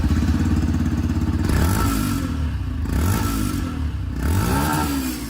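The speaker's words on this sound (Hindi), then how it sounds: "सबसे पहले बारी बारी से मैं दोनों की जो एग्जॉस्ट साउंड है वो आप लोग को यहाँ पर सुना दूँ।" Exhausts of a 2023 Yamaha FZS V4 E20 and a Bajaj Pulsar 150 TD E20 motorcycle idle with a loud, close, rapid thumping, punctuated by two or three throttle blips that rise and fall in pitch.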